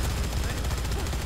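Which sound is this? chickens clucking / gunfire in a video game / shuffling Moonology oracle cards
gunfire in a video game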